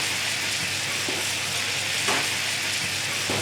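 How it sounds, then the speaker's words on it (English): Butter browning in a pan, a constant bright foaming sizzle close up, with faint scraping stir strokes now and then and no voices. "I'm going to brown this butter"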